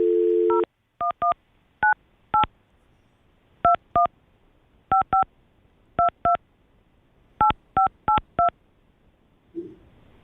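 Telephone keypad tones dialing an international number, a short burst of dial tone followed by about fifteen crisp touch-tone beeps in small clusters, loud and close with silence between them.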